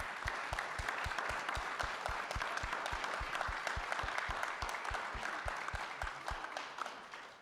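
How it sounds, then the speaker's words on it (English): An audience at a local primary-election forum for state representative and senate candidates gives a sustained round of applause, dense and steady throughout with a few sharp nearby claps standing out, then tapering slightly at the end. "Let's give them a round of applause."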